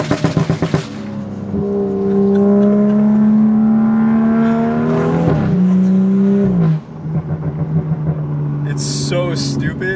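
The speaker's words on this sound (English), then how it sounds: "Now watch, I'm going to downshift in a second and listen." A BMW M235i F22 holds a steady engine drone, then a downshift blip drops into a loud run of crackling exhaust burble pops at the end, close by, with brief talking.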